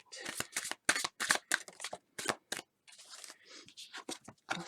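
Tarot cards are shuffled up close in a series of quick, crisp riffling bursts separated by short pauses, with a softer rustle in the middle.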